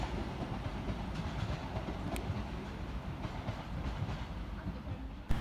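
A Class 730 electric train rumbling through Crewe station in a steady, moderately loud roll of wheels on track, with a brief sharp squeal near the middle and a thump at the end.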